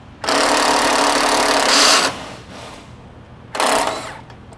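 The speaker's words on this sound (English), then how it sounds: "we're going to remove the bolt and nut from the top and the lower of the shock" A power tool, likely an impact wrench, removes bolts from a shock absorber on a Freightliner Cascadia truck: a loud close whirring burst of about two seconds, a fading tail, then a shorter second burst.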